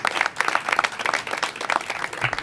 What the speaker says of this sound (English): The pre-K team, let's give them a round of applause.